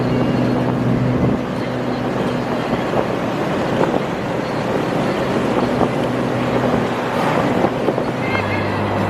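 A Mercedes 230 SL roadster being driven, its engine giving a steady, continuous drone with a low hum running throughout, fairly loud and close, with light road and wind noise mixed in.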